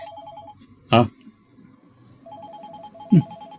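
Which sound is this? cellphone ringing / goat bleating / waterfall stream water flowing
cellphone ringing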